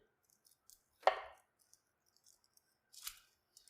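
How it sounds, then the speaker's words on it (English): A single sharp knife chop cuts the stem end off an onion on a board, close and crisp, followed by a fainter cut a couple of seconds later in an otherwise quiet kitchen. "Cutting off the stem end of my onion."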